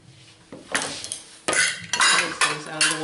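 A spatula works crumbly homemade biscuit dough in a bowl, with scraping and clanking strokes against the sides, the first soft and the later ones louder and more frequent, close up.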